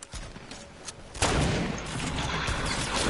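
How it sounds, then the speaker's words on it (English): Gunfire in a multiplayer shooter video game: a quiet start followed by a sudden dense, continuous barrage of overlapping shots that keeps going to the end at a steady loudness. "There's people shooting us from the top, bro."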